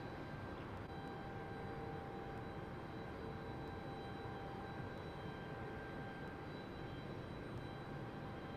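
An Embraer E190 jet departs London City Airport for Milan, heard as a faint, distant, steady engine rumble with a thin whine, alone without voices and holding evenly throughout.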